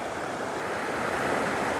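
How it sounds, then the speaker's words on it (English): Water flows over rock outdoors as a broad, steady rushing wash, moderately loud and continuous with no voices. "And then of course with the water flowing over top of it."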